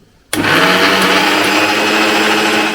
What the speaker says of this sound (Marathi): आता याच्यामध्ये आपण घालणार आहोत पाणी आणि परत नंतर एकदा मिक्सरमध्ये फिरवणार आहोत